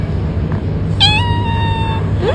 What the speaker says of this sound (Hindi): बिल्ली म्याऊं म्याऊं करती है।